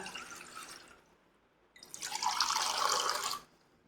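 Milk being poured back and forth between vessels to froth it before setting curd, heard as two bursts of splashing liquid pouring, the second louder and longer, with a brief quiet gap between.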